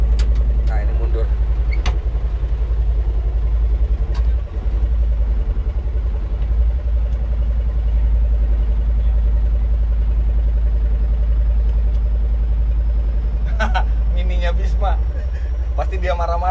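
Car engine running steadily at low rumble while reverse parking, a constant near hum with occasional clunks, under people talking throughout.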